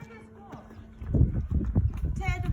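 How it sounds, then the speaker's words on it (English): Mares and foals at a stud farm walk in as a group, their hooves clip-clopping in a busy cluster of steps that grows louder partway through, with someone talking over them and a brief higher animal call near the end. "Now we have the older group of mares and foals coming in."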